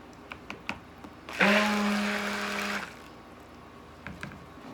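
An electric blender whirs on soap batter for about a second and a half, loud and close, then stops, with faint clicks and handling noises before and after.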